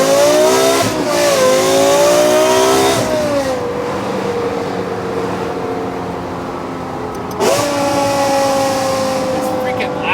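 Straight-piped Lexus LFA V10 screams through loud, sharp revs: a big climb near the start, a sustained high wail that falls back to a rough idle, then another hard blip late on, harsh and close.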